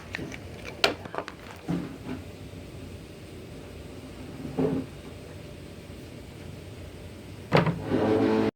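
A power window regulator motor in a 2003 Toyota 4Runner V8 rear door runs in a few short whirring bursts, spaced several seconds apart, over a steady background hiss with no talking.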